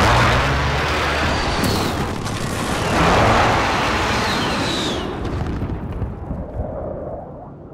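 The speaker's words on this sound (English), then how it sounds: "Enemy precision airstrike, take cover!" Precision airstrike explosions in Call of Duty Modern Warfare, a continuous loud roaring rumble of blasts with debris that fades away near the end.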